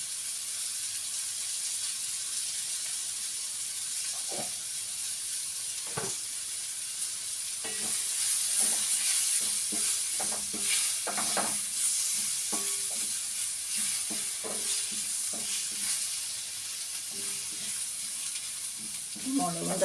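Chili and tomato masala sautéing for a prawn roast, a soft steady sizzle broken by scattered scrapes and knocks of a spoon stirring the pan, fairly quiet and close.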